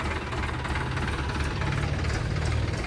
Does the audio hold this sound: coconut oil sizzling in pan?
no